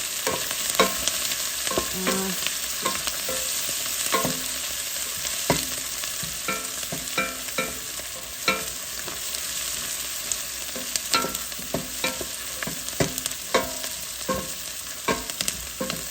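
Lamb karahi ingredients cooking down in a pan, a continuous bright sizzle broken by frequent scraping stirs and light clicks of a spoon against the metal, close and moderately loud with no talk.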